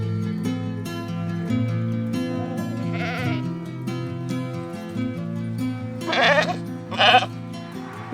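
Sheep bleat on a farm in the middle of Lithuania, with a few loud, near bleats in separate bursts over a steady low hum.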